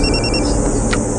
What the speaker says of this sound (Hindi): अभी मेहता का फोन है, क्लाइंट अपना